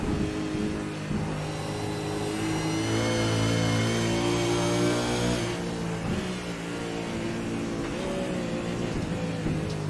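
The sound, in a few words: racing car wheel spin in iRacing video game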